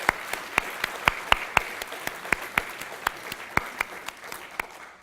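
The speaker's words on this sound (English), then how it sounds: "I will take a round of applause for them right now" Sparse clapping from a small audience in honour of hard-working conference staff, sharp individual claps spaced out over a faint background murmur, fairly quiet and thinning toward the end.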